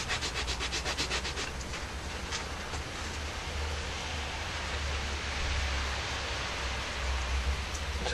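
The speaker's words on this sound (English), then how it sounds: "once I've applied the leather dye, is give it a little rub just to even out the coat" Cloth rubbed over freshly dyed leather on a handmade traditional pouch to even the coat: a soft continuous scrubbing hiss, faster rhythmic strokes at first, then a steady close friction noise, no speech.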